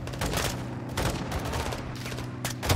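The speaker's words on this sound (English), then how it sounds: "Guys, hit with the launcher." Launcher weapon firing in a video game battle, a dense run of loud blasts and rapid gunfire bursts packed closely together over a constant din.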